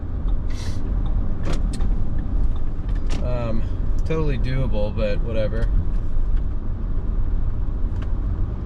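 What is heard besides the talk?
rush hour traffic on Houston highway 288 North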